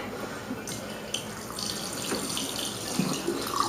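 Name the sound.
rinsing black walnuts with clean water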